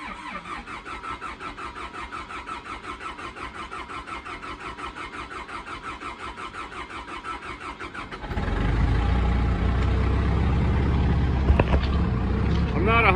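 A diesel engine cranks with a steady rhythmic starter churn, catches into a loud rough idle, then begins to falter as it fails to stay running; a voice speaks briefly near the end.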